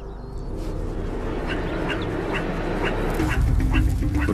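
Animal alarm calls ring out in the Kalahari, repeated short sharp chirps rising above a steady, dense bed of ambient noise that persists throughout.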